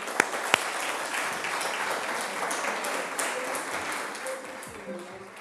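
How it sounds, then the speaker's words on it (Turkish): An audience on a Black Sea regional TV show applauds a guest, a broad sustained clatter of clapping with a couple of sharp knocks at the start and faint voices mixed in underneath. "Sefer Bak için böyle kocaman bir alkış istiyorum."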